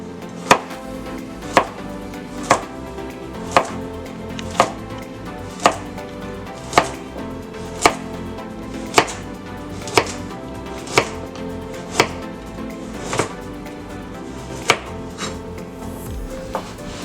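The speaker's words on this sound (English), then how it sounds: "we're gonna take these carrots and we're gonna cut them diagonally and thin on a bias" Knife chopping carrots thinly on the diagonal against a cutting board, sixteen crisp, evenly spaced knocks about one per second, close and clear with no talk.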